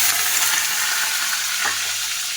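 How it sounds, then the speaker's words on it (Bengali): Potatoes fry in oil in a kadai-style wok, giving a steady, loud, close sizzle throughout with no talking. "আলুটা এটাতে ভেজে নেব।"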